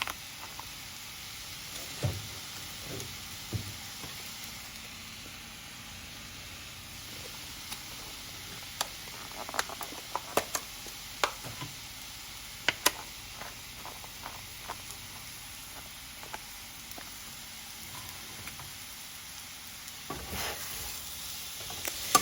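Home fries fry in a pan with a steady soft sizzle while a utensil stirs and scrapes, giving scattered clicks and taps that cluster in the middle, with no talking.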